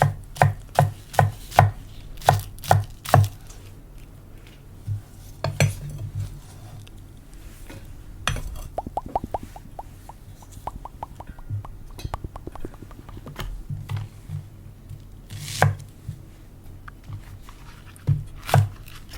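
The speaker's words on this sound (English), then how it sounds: "we're now just chopping this green onion whites" Knife chopping spring onion whites on a cutting board for Korean stew, close crisp rhythmic taps in quick bursts with pauses between, quiet whispering nearby.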